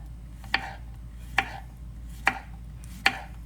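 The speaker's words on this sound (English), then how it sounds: "Start by slicing your zucchini and your squash." Knife slicing zucchini and squash on a cutting board for a summer vegetable gratin, four crisp evenly spaced chops close up against a quiet kitchen background.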